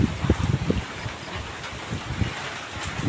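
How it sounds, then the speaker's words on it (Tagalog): Strong typhoon wind at the onset of a storm gusts in a rough, continuous rush, with low buffeting thumps, loud and close to the microphone. "Malakas parang hangin."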